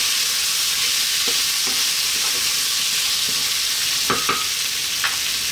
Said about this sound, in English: Get those spices mixed in there. Get that beautiful turmeric colour onto our potatoes or aloo.